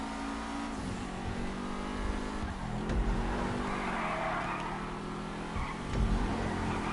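A Seven-70 sports car racing in GTA 5, its engine droning steadily as the tires squeal through corners, loud and continuous with surges of revving.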